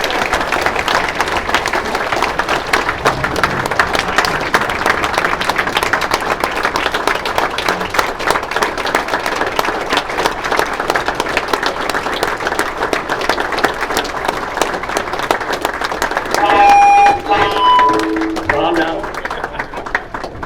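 An audience applauds to welcome retired Marine Corps Colonel Robert Springer, a two-tour Vietnam veteran, with loud, sustained clapping that continues steadily for about twenty seconds before tapering off.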